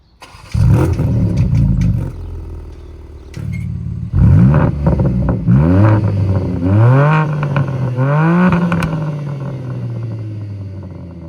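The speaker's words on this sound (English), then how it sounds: "I left all the windows open, so we still hear that Akrapovic exhaust" A 2025 BMW M4 Competition LCI with an Akrapovic exhaust starts up nearby and roars to a loud flare. It then blips through several sharp rising and falling revs before settling into a steady, throaty idle.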